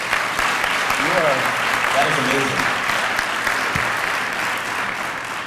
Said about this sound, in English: Can we have one more round of applause for this young lady?